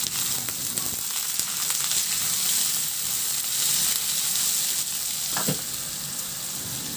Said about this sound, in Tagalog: Nagpainit muna ako ng mantika at igisa ko na yung bawang.